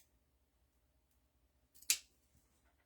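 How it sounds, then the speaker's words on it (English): Scissors cutting up paper pieces, a single sharp snip rising out of near silence, followed by a faint small click. "I'm going to cut this up. I'm just going to cut those pieces."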